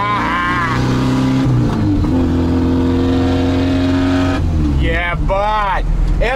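A restored 1957 Moskvich 402 drives through town at about 45 km/h, its engine droning loudly inside the cabin with gear changes and shifting revs, as someone talks over it.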